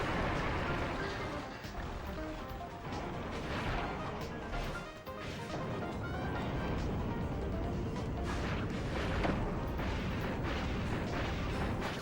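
Explosions burst in a steady, dense barrage after a boss fight in the video game Kirby: Planet Robobot, loud and continuous with crashing hits layered over game music and effects.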